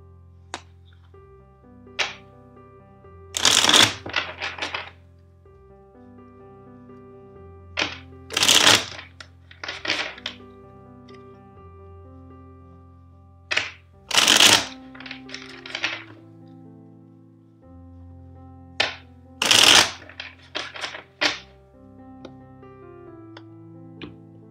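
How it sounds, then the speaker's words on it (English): A deck of tarot cards is shuffled four times, each a quick flurry of crisp riffling snaps, separated by quieter pauses with gentle tones underneath. "let's shuffle the deck four times"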